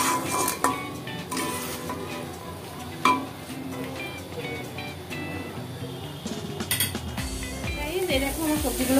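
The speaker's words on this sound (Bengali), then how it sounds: "তো চলো সবজিগুলোকে ভেজে নিচ্ছি।" Vegetables fry in white oil in a wok, a continuous sizzle under clanking pan and utensil knocks and stirring scrapes, with someone speaking over it.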